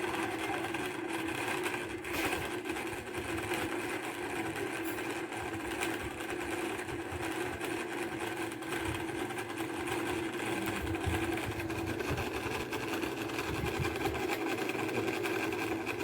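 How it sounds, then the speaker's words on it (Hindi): An induction-motor table fan running at full speed off a homemade 200 W inverter gives a steady, unbroken mechanical hum with a buzzing, sewing-machine-like whirr, close and constant throughout. "इस इन्वर्टर के ऊपर हमारा जो पंखा है वो काफ़ी फुल स्पीड के साथ यहाँ पर काम कर रहा है"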